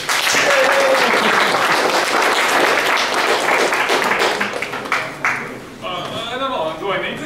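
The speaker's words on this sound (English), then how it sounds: "So give a round of applause." A room full of people at a game developers' meetup talk in Latvia breaks into sustained applause, loud and dense, gradually thinning into scattered claps with some voices near the end.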